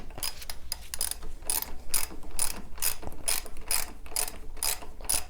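Ratchet tightening riser block bolts on a Ninja 650 triple clamp, with quick, even clicking strokes repeating steadily and close up, alone without speech.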